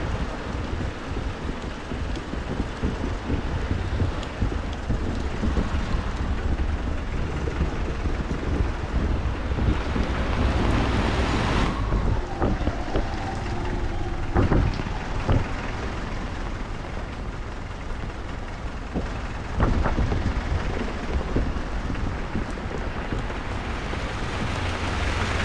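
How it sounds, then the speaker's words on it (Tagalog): Dense, continuous rushing noise with heavy wind buffeting the microphone, like a downpour beating down nearby, with occasional thumps. "Grabing ulan dito."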